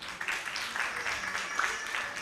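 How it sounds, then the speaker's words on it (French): Fairly faint applause from the audience at a Jeunesse En Action youth competition heat, a brief patter of clapping with some voices mixed in. "Est-ce qu'on peut applaudir pour elle?"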